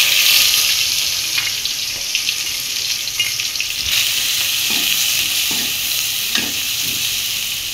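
Shrimp dropped into hot oil in a pan set up a loud, steady hiss and crackle, with occasional stirring and spatter sounds, close up and with no talk.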